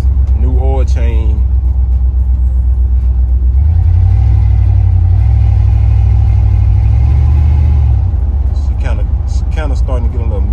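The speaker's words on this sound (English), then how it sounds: "When I hit on the gas, she kinda stutter a little bit." Chevrolet Monte Carlo engine with a slight misfire, stuttering on the gas: a loud idle rumble swells into a sustained rev mid-clip, then drops back, with someone talking before and after.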